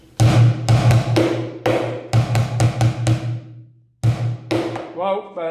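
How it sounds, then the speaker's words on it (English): A plastic bucket drummed with sticks in a practice beat, sharp rim clicks mixed with deeper mid-bucket thumps in a quick, loud, close pattern; a brief pause, then the groove resumes and ends in a short ringing tail. "the 2 and is up in the rim and everything else is mid bucket"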